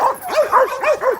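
Several excited dogs bark and yip in quick overlapping bursts, loud and close, with rising and falling whiny tones between barks.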